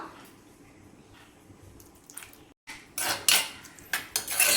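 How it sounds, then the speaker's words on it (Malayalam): Yogurt being mixed into beetroot pachadi in a pan: soft quiet stirring at first, then a pause and louder, close spoon scrapes and clinks against the pan in irregular bursts. "തൈര് ചേർത്ത് നന്നായിട്ട് മിക്സ് ചെയ്തിട്ടുണ്ട്."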